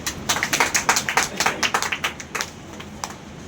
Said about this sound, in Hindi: ताली आप लोग कम क्यों नहीं बजा रहे?